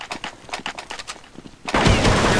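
Rapid gunfire from an automatic shotgun in the video game Counter-Strike 1.6: a quick rhythmic series of sharp blasts that gives way to a dense, loud, continuous roar of shooting.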